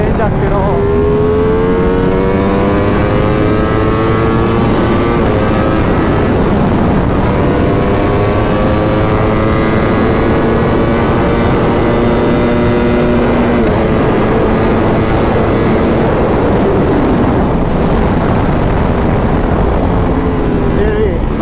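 A Ducati Panigale V4S motorcycle engine runs loud and close while riding, with steady revving tones sweeping up and down through gear changes across the whole stretch.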